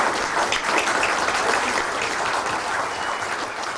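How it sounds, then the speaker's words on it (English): Steady, dense applause from a sizeable audience after a talk, clapping continuously at an even level throughout. "give him a very big round of applause"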